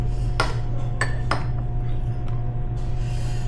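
A utensil knocks and clinks against a dish while food is mixed, three sharp taps close together early on, then fainter scrapes over a steady background hum.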